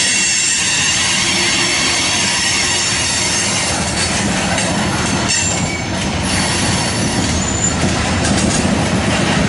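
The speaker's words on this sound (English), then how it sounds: "there should be a coal train coming that has" A coal train rolls steadily past in Hobson Yard, Lincoln, Nebraska, with constant loud rumble, wheels squealing and clanking over the rails throughout.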